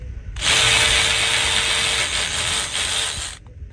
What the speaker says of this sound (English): You can do this with a ratchet, an electric ratchet, which is what I'm using